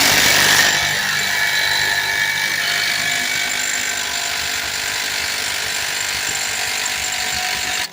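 An impact wrench hammers steadily and loudly on the front hub bearing of a 2004 Toyota Sienna for about seven seconds without a break, then cuts off abruptly.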